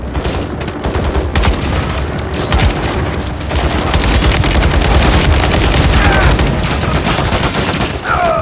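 Dense Call of Duty gunfire: rapid bursts of automatic weapons and heavy booming shots pile into a continuous, loud battle fusillade, with shouted voices faintly mixed in among the shooting.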